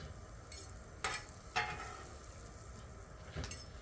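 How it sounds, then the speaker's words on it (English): Mushrooms cook in a pan with sauce for smash burgers, giving a quiet, steady sizzle at close range, broken by a few soft scrapes of stirring. "I'm going to go ahead and slide our mushrooms in there. And just let that finish cooking"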